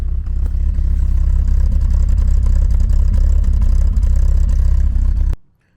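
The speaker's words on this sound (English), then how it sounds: "But it is running, and I think it will rev up." An abandoned, cheaply bought Porsche 924 engine runs and revs roughly, a loud sustained rumble with clattering that holds steady for about five seconds, then cuts off abruptly to near silence.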